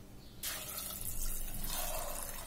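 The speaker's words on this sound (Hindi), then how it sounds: "इसमें हमें पानी डाल देना है" Water is poured from a tap into a pressure cooker of soaked black chickpeas, a steady rushing flow that begins abruptly and continues close by with no voices.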